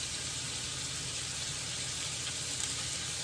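Date syrup mixture sizzling in a pan, a steady close frying hiss that runs unbroken and alone throughout.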